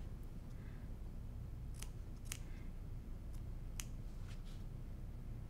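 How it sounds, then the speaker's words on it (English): Small scissors snip the fabric dog ears off quilt pieces: a handful of crisp, quiet clicks at irregular intervals over a low background hum. "I just like to clip off these little dog ears with small scissors"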